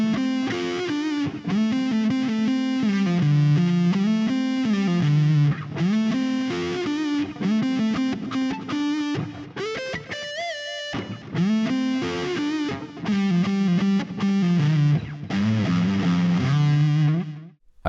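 A loud, heavily distorted electric guitar plays a fast solo, running continuously with a brief held note in the middle.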